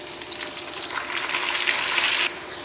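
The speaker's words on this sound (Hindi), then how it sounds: "शलजम डालते हैं और 2 मिनट के लिए फ्राई करते हैं" Turnips with golden fried onions and tomatoes sizzle in a pan, a close, steady hiss with stirring noises that swells and then drops sharply near the end, with no talking.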